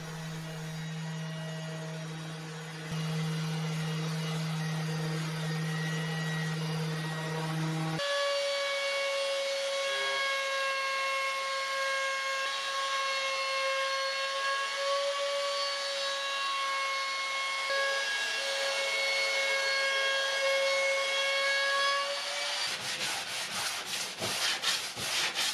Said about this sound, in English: Give the back panel a thorough sanding and cut the final bevels.